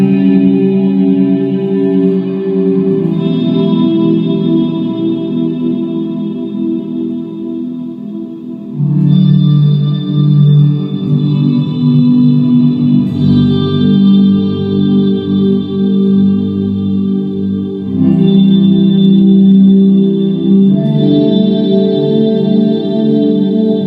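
An electric guitar plays sustained chords through a zcat pedals Big Reverb pedal, the notes swelling into long, washy reverb tails that ring on between changes.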